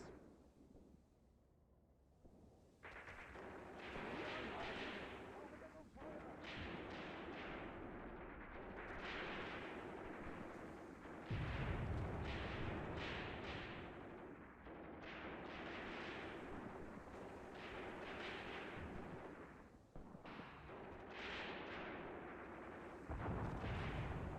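Gunfire and artillery from the war game Graviteam Tactics: Mius Front, set in the Battle of Leningrad, with dense, continuous booming and cracking shots that stay loud nearly the whole time and carry a heavy low-end rumble.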